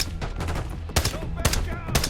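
Gunfire in Call of Duty: Black Ops 6 crackles as sharp, repeated shots in quick bursts against a noisy battle backdrop, with faint voices underneath.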